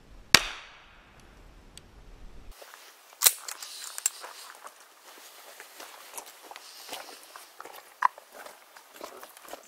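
Two sharp .40 caliber shots of 180 grain jacketed hollow point rounds strike a ballistic vest, a loud crack near the start and another around three seconds, followed by scattered impacts and rustling handling noise.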